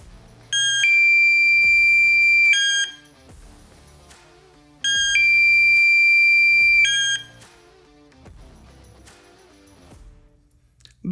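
A fire alarm control panel siren sounds in two long, loud, steady electronic bursts of about two seconds each, separated by quieter clicking and rattling.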